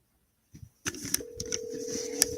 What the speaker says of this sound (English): I'm just gonna call my actual phone.